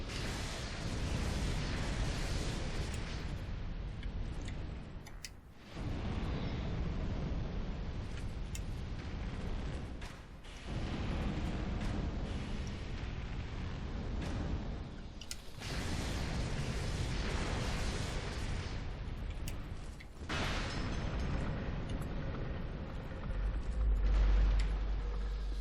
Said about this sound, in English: There are some barrel people, which I'm just going to let explode.